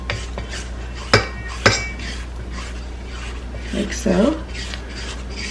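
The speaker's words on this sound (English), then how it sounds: "I'm going to scrape down the sides of the bowl" A spatula scrapes around the sides of a mixing bowl of vanilla cake batter, giving soft rubbing and scraping strokes with a couple of light clinks against the bowl, while a voice speaks briefly and quietly.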